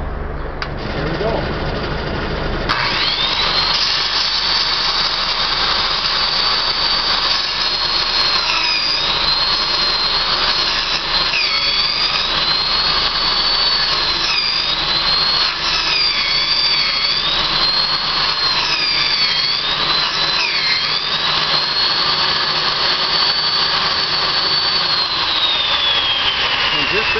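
A saw spins a log spindle on a homemade lead-screw turner, giving a loud, steady high-pitched whine with a wavering pitch as it cuts. The whine runs continuously for most of the stretch after a brief quieter start.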